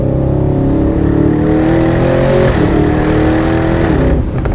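A 2026 Aston Martin Vantage Roadster engine revs loudly and steadily with the roof down, pitch rising and falling, with open-air exhaust roar for about four seconds before cutting off.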